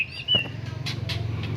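A songbird recovering from a cough gives a few short, high chirps, one clear call at the start and then fainter bursts, over a soft low background hum.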